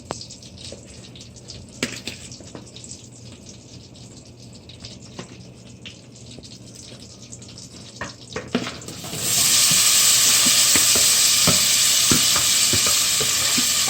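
Butter hits a hot pot for pot roast beef and bursts into a loud, steady sizzle that fills the last few seconds after a stretch of quiet kitchen clatter and stirring.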